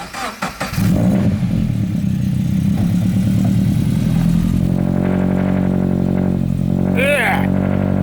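A Scion FR-S starts and runs while being loaded onto a trailer; the engine catches after a brief crank, then holds a loud, steady drone with slight rev changes, and voices speak near the end.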